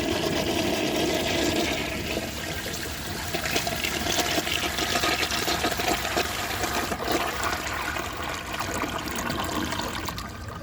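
A 1976 Crane Whirlton toilet flushing a dish towel, a loud, close rush of water swirling and draining for several seconds, then a steady refill trickle, with no talk.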